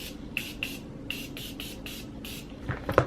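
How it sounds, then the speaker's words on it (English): A setting spray is misted over a face in a series of short, crisp spritzes, about eight evenly spaced bursts close to the mic, followed by a little rustling handling noise at the end. "I'm going to spray myself down, trying to avoid the eyes"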